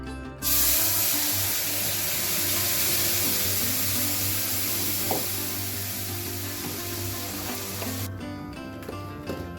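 Fried hilsa in a pan as a paste of white and black mustard with green chilli is added, giving a loud, steady close-up sizzle that starts abruptly and hisses on for several seconds before cutting off.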